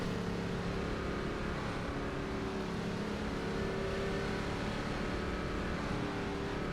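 Steady, dense race car engine drone from an iRacing Gen 4 Cup car at Phoenix, held on throttle in third gear and pulling toward higher revs, continuous and fairly loud with no voices.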